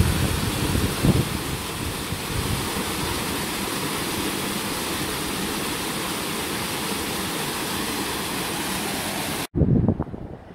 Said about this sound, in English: It's a little weir.